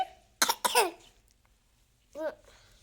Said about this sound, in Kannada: ಯಾಕ ನಿನ್ ಕೆಮ್ಮು ಹೋಗತ್ತಿಲ್ಲ